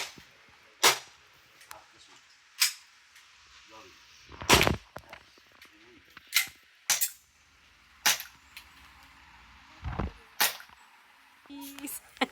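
Sharp gunshots from a shooting activity at Tagaytay Highlands, about ten separate cracks spaced irregularly over the stretch, close and loud, with quiet pauses between and faint voices in the background.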